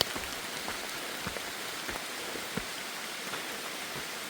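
Steady rain pattering on the Appalachian Trail in North Carolina, a dense even hiss of drops with occasional louder splats nearby, no voices.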